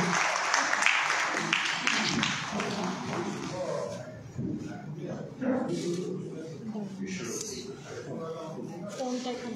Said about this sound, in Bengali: আমরা যে কজন আছি করতালি দিয়ে তাকে অভিনন্দিত করব